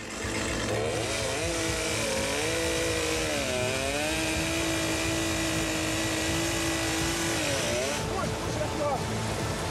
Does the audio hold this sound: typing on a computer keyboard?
no